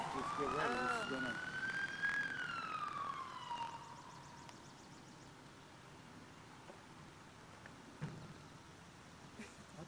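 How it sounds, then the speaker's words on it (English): A rock blasting warning siren wails with a rising and falling tone for a few seconds, then fades out, leaving a low outdoor rumble. "That's the blaster sirens."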